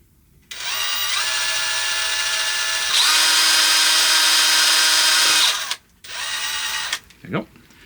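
A power drill whirs in two long bursts during a camper van build, rising in pitch as it speeds up, then a brief final whine after a short pause.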